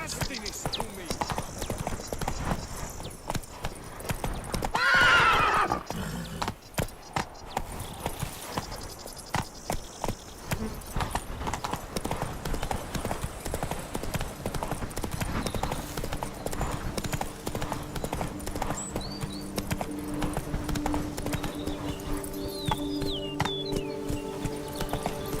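A horse named in The Witcher 3 gallops with rapid, steady hoofbeats, breaking into a sharp whinny early on, while game music and a voice speak over the running clip-clop.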